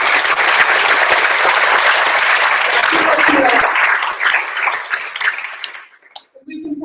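A meeting audience at a general assembly session gives a big round of applause, loud and dense for several seconds before thinning out and stopping, with a brief voice at the end.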